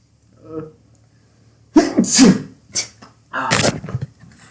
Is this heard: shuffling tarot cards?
no